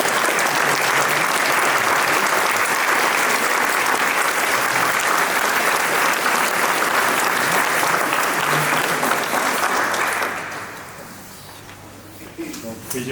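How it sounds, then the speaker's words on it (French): Sustained applause from a church congregation at the blessing of a new bell in Toulouse, loud and steady for about ten seconds before thinning out to scattered claps and quiet murmuring. "On applaudit Flore."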